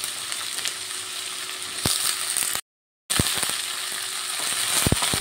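Spring onion stalks fry in a pan for a Bengali chorchori, giving a steady close sizzle with scattered crackles and clicks. The sizzle cuts out briefly partway through, then resumes.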